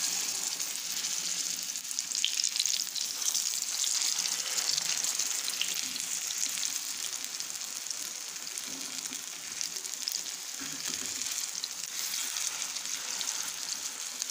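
Aloo besan tikki fry in a pan on gentle heat, giving a steady, even sizzle that holds at a moderate level throughout with no talking.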